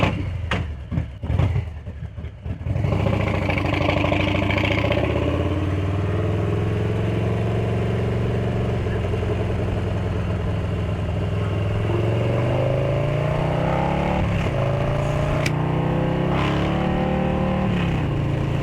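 A Harley-Davidson Street Bob 114 with a Stage 2 upgrade runs loud and close, a deep rumbling idle that holds steady and then swells with a throttle blip near the end.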